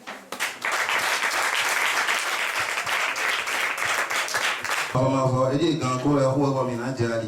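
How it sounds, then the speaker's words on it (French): Applause for children at an orphanage visit, a dense crowd clapping steadily for about five seconds before giving way to loud music with singing voices. "Que nous applaudissions très fort les enfants."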